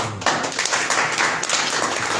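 Audience clapping at a political rally: dense, steady applause from many hands fills the whole stretch at close range, with no talk over it.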